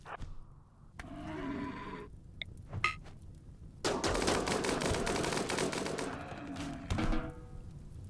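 Rapid gunfire bursts from the RimWorld colony game, from scattered cracks at first to a long, dense volley in the middle, moderately loud with no voices.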